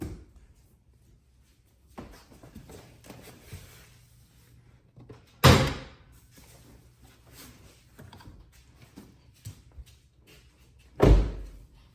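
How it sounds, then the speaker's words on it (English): The hood of a 2024 Acura Integra is opened with faint mechanical clicks of the release, a loud thud partway through, then a second heavy clunk as the hood settles into position. "So the first thing we need to do is open the hood."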